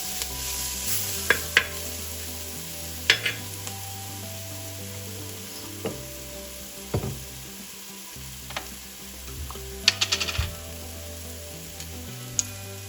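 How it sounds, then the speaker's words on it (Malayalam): Onions for tomato rasam sauté in a pan with a steady low sizzle, punctuated by close, sharp scraping and clinking as a spoon stirs them at irregular intervals. "അപ്പോൾ ഉള്ളി ഒന്ന് പെട്ടെന്ന് വഴണ്ട് കിട്ടുകയും ചെയ്യും"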